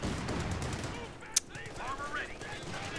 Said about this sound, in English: MG42 taking a couple shots from Stewart.